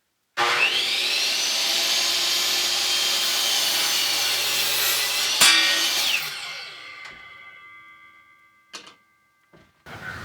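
A 14-foot deck board has about half an inch trimmed off its end with a power saw, cutting loudly and steadily for roughly five seconds before winding down, followed by a few brief knocks and rattles.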